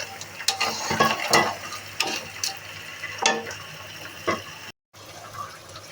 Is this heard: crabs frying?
yes